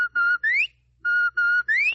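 Radio-drama police whistle signal, blown in two matching bursts: each a pair of steady shrill blasts followed by a rising upward slide, loud and close with a brief silent gap between the sequences.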